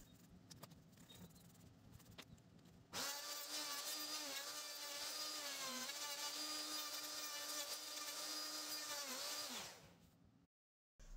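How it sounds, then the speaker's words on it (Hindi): A wood router trims one-inch-thick timber to half thickness for an overlap joint on a folding dining table, a loud, steady high-pitched whine that starts abruptly, holds for about seven seconds, then winds down. "राउटर की मदद से हम लकड़ी को ट्रिम कर लेंगे"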